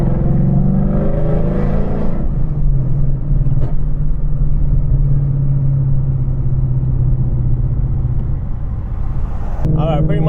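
A Ford Mustang S650 fitted with longtube headers drives past others on the road, a deep continuous exhaust rumble from inside the car that swells under throttle early on, then holds a steady drone.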